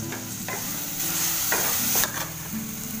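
Tomato, turmeric and coriander leaves stirred in hot oil in a pan, a steady close sizzle under scraping strokes of a spoon and a few sharper clatters against the vessel, no talking.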